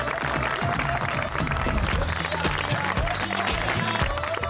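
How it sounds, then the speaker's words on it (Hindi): A studio audience on an Eid special comedy show claps to welcome the poet Anwar Masood. Continuous crowd applause runs throughout at a steady level, with a low voice briefly heard beneath it. "मेरे साथ तालियां बजाइएगा, हम इस्तकबाल करते हैं अनवर मसूद साहब का।"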